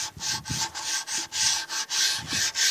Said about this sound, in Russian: мы ступеньку зачищаем